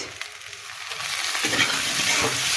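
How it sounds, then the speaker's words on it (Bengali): Cumin and green chilies fry together in a pan, a brief close sizzle that swells as something is stirred in, with stirring scrapes and no talk. "সব একসঙ্গে ভাজি করব কারণ আমি আলাদা আলাদা করে ভাজিয়ে তারপরে ওইটা দেবো"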